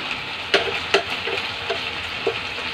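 Chicken inasal fries in hot oil with a steady close sizzle, punctuated by a few sharp pops and spatters at irregular intervals.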